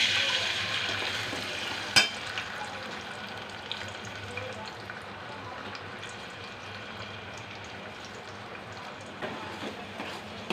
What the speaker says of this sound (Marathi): पेस्टला तेल सुटेपर्यंत ही पेस्ट तेलामध्ये भाजून